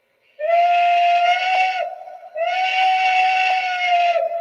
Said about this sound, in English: you press the aux 1 button on the cab 2 and you blow the whistle again